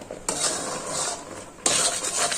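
Thick boiled-down milk mixture for saffron-flavoured penda stirred in a pan over the gas flame, a steady scraping swish that pauses briefly and picks up again, close and moderately loud with no talk.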